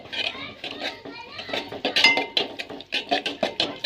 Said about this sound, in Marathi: आता आपली मॅगी अशी चमच्याने फिरून घ्यायची,